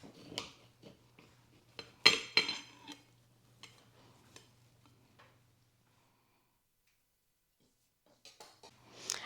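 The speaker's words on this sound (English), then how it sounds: "So I'm going to go ahead and cut it and show you just a slice" A knife slices through a classic pound cake with a crusty top, giving a few soft scraping cuts and a sharp clink of the blade against a plate, then a quiet pause before more light scraping at the end.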